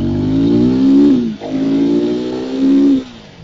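A 2025 KTM 390 Adventure X motorcycle's single-cylinder engine revs loudly and up close, climbing twice to a high, sustained whine and dropping back between the pulls, with no talking.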